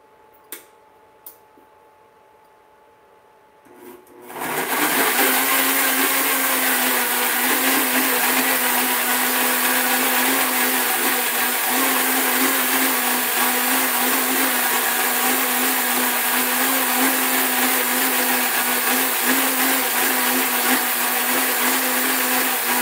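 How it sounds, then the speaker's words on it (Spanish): A kitchen blender purees tomato salsa without added water, starting after a few seconds of near quiet with faint clicks, then roaring loudly and steadily at one speed for the rest of the clip. "Voy a licuar,"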